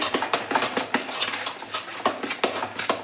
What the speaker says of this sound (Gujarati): આ ક્રીમને આપણે આવી રીતે ફેટી લેવાનું છે